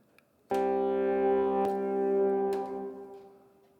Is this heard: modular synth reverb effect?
yes